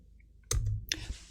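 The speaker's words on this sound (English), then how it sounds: "I'm going to click here." A computer mouse is clicked once, a short sharp click close by, followed by a second softer click in an otherwise quiet room.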